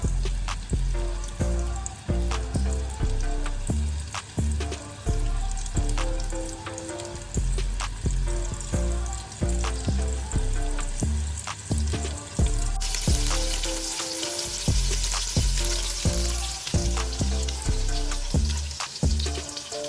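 Meatballs searing in a pan over medium heat until browned, a continuous loud sizzle and crackle of frying with frequent spatters and scraping stirs, growing brighter and hissier toward the end.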